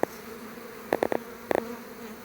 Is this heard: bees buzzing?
yes